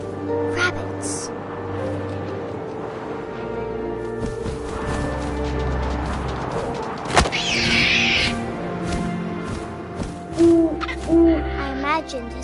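An owl hoots within What Remains of Edith Finch, its soft low calls repeating over ambient game music and wind while a narrator speaks throughout.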